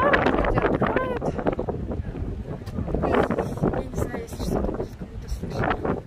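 Strong wind buffets the microphone on a riverside embankment, a constant rumbling roar with gusty swells that masks everything else, with a voice faintly present underneath.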